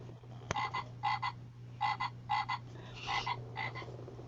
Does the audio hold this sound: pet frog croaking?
yes